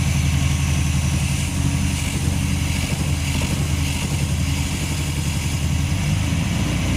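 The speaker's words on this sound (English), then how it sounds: "Running a little bit lumpy, probably the carburetors." A classic car engine on its first fire after restoration, idling lumpy with suspected carburettor trouble, gives a steady, continuous low rumble close by, with no one talking over it.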